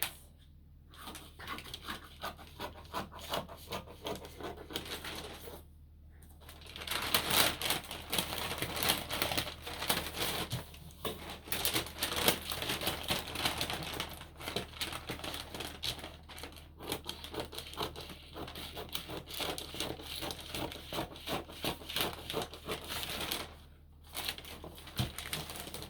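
Scissors cutting out a paper bodice pattern produce a steady, quiet run of crisp snipping and rustling paper with brief pauses, close by and with no talking.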